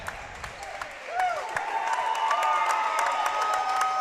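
At a Pine City vs St Francis high school boys basketball game, a gym crowd swells into cheering and clapping after about a second, with talking over it.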